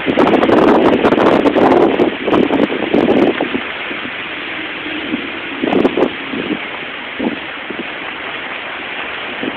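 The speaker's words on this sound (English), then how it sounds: "The wind's coming really strong from this part right here." Strong hurricane wind from Hurricane Irene in Greenville, North Carolina, buffets the microphone in a loud, continuous roar, with heavier gusts in the first few seconds and scattered rumbling bursts later.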